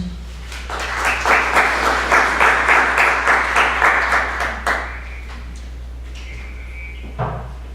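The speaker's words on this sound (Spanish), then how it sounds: "para quien pido un fuerte voto de aplausos." A conference audience applauds a speaker: a few seconds of brisk, rhythmic clapping from a room full of people, then it fades into a quiet room with a few small knocks and a brief clink.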